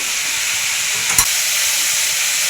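Food fries in hot oil in a pan with a continuous bright sizzle, broken once midway by a short clink of a utensil stirring against the pan.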